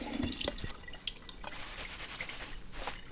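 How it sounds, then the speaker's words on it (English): Tap water running and dripping as nettles are rinsed in a sink, heard as soft, close splashes with irregular drips and clinks. "We're just going to rinse off our nettles."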